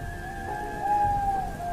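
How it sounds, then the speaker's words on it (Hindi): Steady rain falls in a quiet jungle house at night, a constant broadband hiss with a low rumble beneath that suggests distant thunder, alongside a faint sustained tone; no voices. "सिर्फ बारिश की आवाज और कुछ और।"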